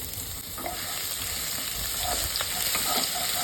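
Garlic frying in a pan, a steady close sizzle with intermittent stirring scrapes and clinks throughout.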